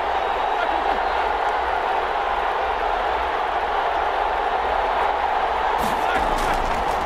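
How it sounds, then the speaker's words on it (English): A packed football stadium crowd at a Steelers versus Cowboys NFL game roars steadily ahead of a big third down, a constant broad wash of noise with a commentator talking over it. "The crowd getting into it as we come up on a big third down."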